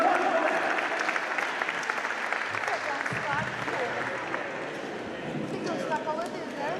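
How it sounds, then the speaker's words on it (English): At the IKF Korfball Champions League final between PKC/Vertom and Bec KC, a crowd's applause rolls on as a dense, continuous wash while an announcer talks over it. "A round of applause for number"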